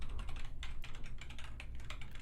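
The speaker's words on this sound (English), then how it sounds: "Can I do keyboard sounds?" ASMR keyboard typing during a live stream, continuous close-miked clacking keystrokes in a quick, uneven rhythm, loud and crisp over a low hum, with no talking.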